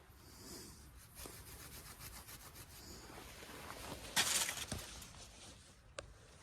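Stone spear point, limestone, being ground flat against an abrasive surface: a steady soft rasping scrape that carries throughout, with a brief louder gritty burst near the middle and a sharp tick toward the end.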